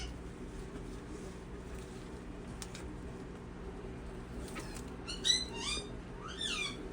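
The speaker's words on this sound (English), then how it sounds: "you can hear one of the birds that I have here in the back" A few short bird chirps and whistled calls ring out near the end over a steady low background hum, faint and somewhat distant.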